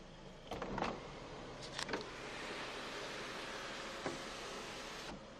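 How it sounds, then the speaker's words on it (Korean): A Jaguar New XF 2.0 Luxury's sunroof runs open and shut at one touch, a steady soft motor whir with faint clicks and thumps at the start and end of travel, heard close inside the cabin. "진짜 잡소리 하나 없는 이 썬루프도 당연히 탑재가 되어져 있고요. 원터치로 열리고 닫히는 모습까지 확인할 수가 있습니다"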